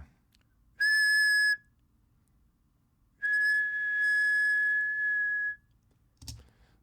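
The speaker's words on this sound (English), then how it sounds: "I just whistled into the microphone, held a tone for a period of time" Two sustained whistled tones, one short and one held for a couple of seconds, close to the microphone, followed by a faint click.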